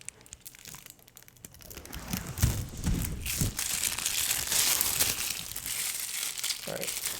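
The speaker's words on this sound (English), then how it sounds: "That's the sound of me pulling the plastic off of the grip." Plastic wrap crinkles and tears as it is pulled off a new Victor JetSpeed badminton racket grip. The crackling is close, builds and continues for several seconds, and a quiet voice is heard briefly.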